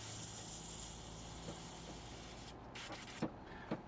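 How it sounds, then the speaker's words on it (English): An airbrush hisses steadily while leftover paint is sprayed out, the flow cutting off near the end and giving way to a couple of soft clicks. "Okay, spray out what's left in there."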